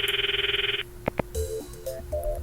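A phone call in the Steins;Gate video game: a pulsing electronic ring tone, then two sharp clicks and a run of short dial-like beeps, close and clear with no talking.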